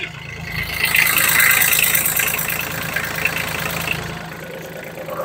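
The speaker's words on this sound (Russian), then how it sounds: "Соответственно, максимально четенько работающий двигатель." An Iseki GEAS TG273 mini tractor with cab idles nearby, a low, even diesel chug with a steady rhythmic knock that rises slightly, then settles back to a softer, smooth idle.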